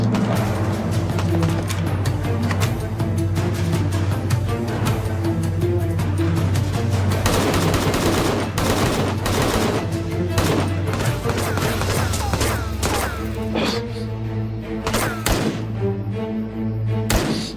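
Dense, loud gunfire erupts in a battle scene, overlapping bursts of automatic fire and heavy thuds continuing without pause, with faint voices buried beneath.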